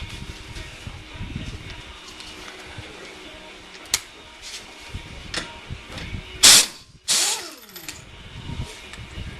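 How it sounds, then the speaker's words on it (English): A pneumatic air impact wrench powered by an air compressor, used on a 2007 Camry Hybrid during a front disc brake pad change, fires two loud, close bursts after scattered clanks and knocks from the work. "I get to actually pull out my air wrench, fire up my air compressor"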